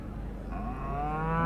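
A Simmental beef cow at an agricultural show gives a single close, full moo lasting about a second and a half, its tone rising and strengthening toward the end.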